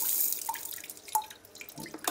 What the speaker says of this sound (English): The water sprays, and then there's another one to turn that side.